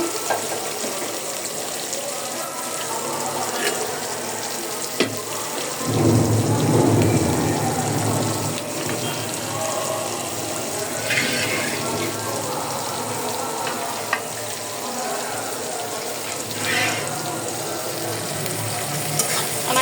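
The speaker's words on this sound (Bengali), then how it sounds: "আমি পেঁয়াজের সাথে দিয়ে দিলাম চিংড়ি মাছটা" Shrimp sizzles with onions in a hot pan in a home kitchen, a steady crackling fry with a louder burst of sizzle early on and occasional clinks of stirring.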